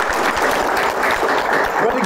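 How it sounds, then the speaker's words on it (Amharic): Studio audience clapping for contestants on a holiday quiz game show, a steady dense patter of many hands sustained throughout at fairly close range. "አጨብጭቡላችሁ"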